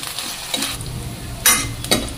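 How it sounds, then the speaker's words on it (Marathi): Finely chopped capsicum sautéing in a pan of oil after golden-brown onions, a soft steady sizzle broken by a few sharp stirring scrapes and clinks, close and alone without any voices. "यानंतर आपण एक ढोबळी बारीक चिरलेली तेलात परतून घेऊयात"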